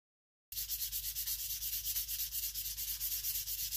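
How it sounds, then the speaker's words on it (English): Fine grit sandpaper rubs by hand across an axe bevel in steady, rhythmic back-and-forth strokes, a close, even scratchy hiss that starts after a brief silence and continues without pause. "I'll switch to the fine grit sandpaper, show you how it comes out."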